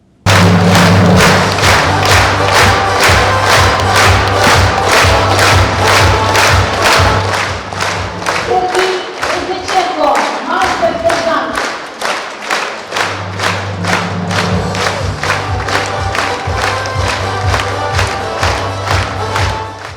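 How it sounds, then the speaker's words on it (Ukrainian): A hall audience at a concert in Odesa gives soldiers a standing ovation, loud sustained rhythmic clapping with crowd noise and occasional thuds, continuing without pause throughout. "Зал аплодує воїнам стоячи."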